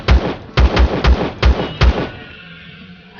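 Six sharp pistol shots in the game Empyrion Galactic Survival, fired in a quick uneven burst, loud and close, each a punchy thump, ending in a brief quiet tail.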